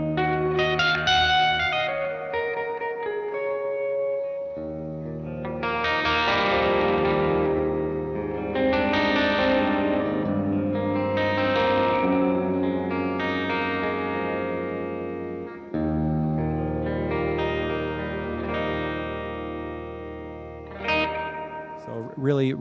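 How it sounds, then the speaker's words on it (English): Electric guitar runs through a Gamechanger Audio pedal, with bright spring tank reverb blended into an optical sound and dry signal. Sustained, heavily effected chords and notes ring out with long washy tails, playing continuously in phrases. "You can hear the brightness of the spring tank right there come in and kind of help out that optical sound."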